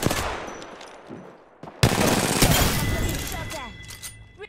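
Automatic gunfire in the shooter game Apex Legends, sharp bursts and rattling volleys after a brief quiet gap, with a player talking over the shooting.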